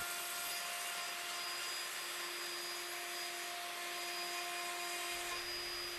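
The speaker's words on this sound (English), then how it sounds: "Move the cutter forward and we get the next cut, and so on." A router cutter cutting wood joints on a WoodRat jig, giving a loud, steady high-pitched whine with constant tonal hum and no pauses, dominating throughout without speech.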